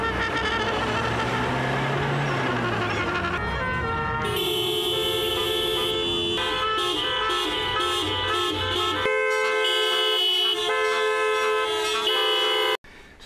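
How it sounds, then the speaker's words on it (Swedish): Vehicle horns honk in sustained, overlapping tones as part of an orchestral concert piece for taxis and lawnmowers, with several horns layered loudly before cutting off abruptly. "Signalhorn och sådär."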